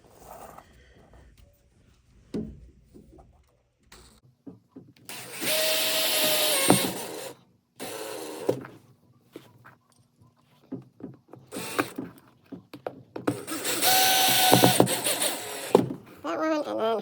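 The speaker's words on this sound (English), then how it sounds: "we'll set our screws into place here" A power driver sets screws while a barn door is installed at home, two long bursts of whirring that stop and restart, with short gaps and faint handling noises between them.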